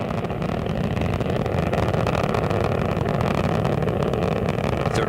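Space Shuttle Atlantis and its three liquid-fuel main engines thunder during launch from Complex 39B, a steady, dense, unbroken roar that holds at full loudness throughout.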